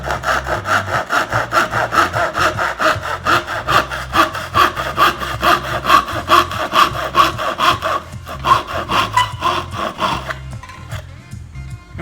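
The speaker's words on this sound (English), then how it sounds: "I use a really fine blade saw, just a good tool, a very narrow kerf, works really well" A fine-bladed, narrow-kerf hand saw cuts into a wooden cigar box along a scored and chiseled line, its steady rhythmic back-and-forth strokes close and loud before stopping near the end.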